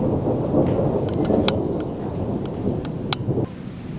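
Steady rain patters throughout while low thunder rumbles underneath, with a few sharper cracks and drips standing out near the end.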